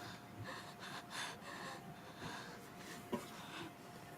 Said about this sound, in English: When the heavy breathing's going on here.